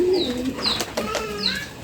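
Pigeons coo and call nearby in short rising and falling phrases, with several birds overlapping over soft background noise.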